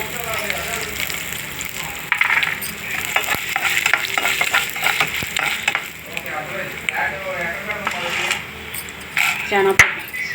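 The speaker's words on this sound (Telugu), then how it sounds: "బ్రౌన్ కలరు బాగా వేగించుకోవాలి. అలాగే ఎండుమిర్చి కూడా వేసుకోవాలి." Dried red chillies stir-fried in oil in a pan for a Telugu ivy gourd chutney, giving a steady close sizzle with repeated scraping stirs and clinks, loud and continuous throughout.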